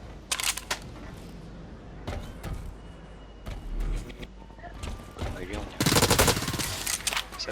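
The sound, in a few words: tactical machine gun firing in video game Blacklight Retribution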